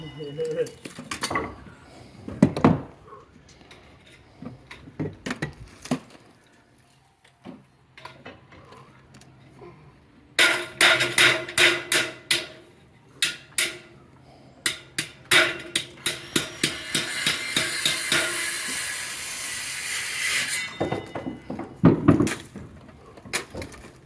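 Hammering while installing the bottom rail of house skirting: irregular bursts of sharp metallic and wooden knocks, some rapid runs and some single strikes, with a person talking between the blows and quieter handling noises.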